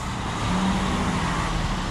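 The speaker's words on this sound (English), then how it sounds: "Good to see some sand trucks rolling in though" Sand trucks roll in toward ready-mix and sand plants, giving a steady, moderately loud low rumble of heavy engines and tires on the road with no distinct peaks.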